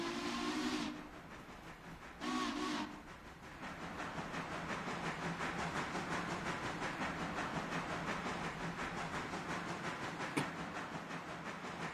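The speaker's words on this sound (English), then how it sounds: "Five's whistle sounds like it's dying." Train whistle of locomotive number five, a weak, dying-sounding steam-style blast opening the stretch, with a second short blast about two seconds later, followed by steady rumbling hiss of a railroad haul at night.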